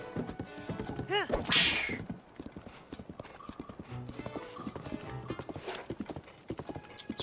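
Galloping hooves of a horse in The Legend of Zelda: Tears of the Kingdom keep a quick, even beat, broken early by a loud whinny, with bits of talk mixed in.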